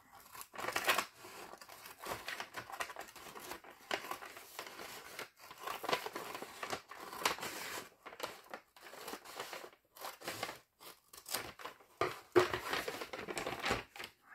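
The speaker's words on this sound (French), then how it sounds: "on va couper" Material is cut with scissors in short bursts of crisp snipping and crinkling, close and fairly quiet, with small pauses between cuts and no talking.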